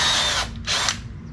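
A power drill bores a hole through a metal plate from a hot rod pedal assembly, giving two close, loud whining bursts with a short dip between them.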